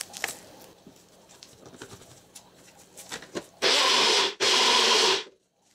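Blender blades grind hot peppers with a splash of water, a loud steady whir in two bursts separated by a short pause, after several seconds of quieter clatter and handling.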